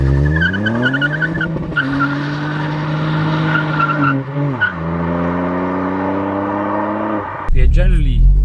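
A 2019 Ford Fiesta ST MK8 engine and exhaust pulling under acceleration, a loud, steady, rising drone through several gear changes with brief dips between shifts, close and continuous.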